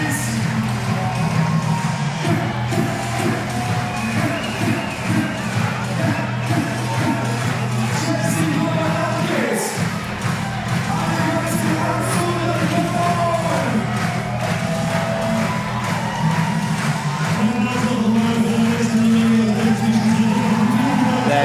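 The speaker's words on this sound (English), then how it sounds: "Every move she makes, the crowd are cheering her on." A large crowd cheers and yells through a night-time lead climbing semi-final in Innsbruck, with sustained roaring, whoops and swelling shouts, and a commentator's voice speaking over the din.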